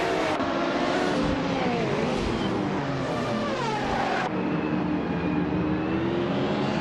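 Racing game engines roar continuously, led by a 1985 Lancia LC2, with several cars droning together and their pitches climbing and shifting as they accelerate and change gear.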